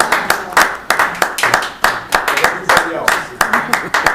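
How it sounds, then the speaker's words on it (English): Rhythmic group clapping at a committee meeting, steady repeated hand claps of moderate loudness that come close and evenly spaced, with faint speech mixed in underneath. "a clap for you."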